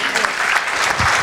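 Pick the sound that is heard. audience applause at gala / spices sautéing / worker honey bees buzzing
audience applause at gala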